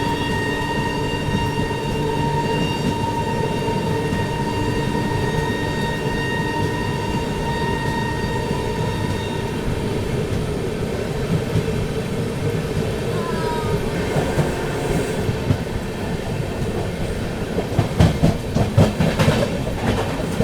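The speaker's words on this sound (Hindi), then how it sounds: "फिलहाल अपनी अमृत भारत एक्सप्रेस यहाँ पर स्किप करने जा रही है खुर्जा" An Amrit Bharat Express train runs through Khurja junction without stopping in heavy rain, with a steady rolling rumble and rhythmic clatter of wheels over rail joints, brief squeals, and denser clicking near the end.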